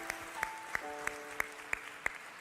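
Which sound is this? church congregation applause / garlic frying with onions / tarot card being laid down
church congregation applause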